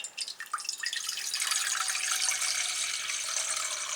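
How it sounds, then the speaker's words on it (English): Water pours steadily from a tap into a small cooking pot, a continuous splashing, trickling rush that builds and holds, heard close and alone, with a few faint clinks at the start. "Let me add some water down into that little pot right there."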